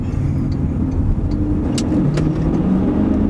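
A sports car in sport mode accelerates hard off a roundabout, its engine note heard from inside as a steady, loud low roar that builds throughout with no speech over it.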